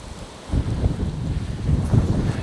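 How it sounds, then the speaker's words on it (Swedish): Sudden strong stormy wind buffets the microphone in heavy, roaring gusts outdoors at a roadside petrol station, rumbling low and loud with no voices. "Jäklar vad det blåser helt plötsligt."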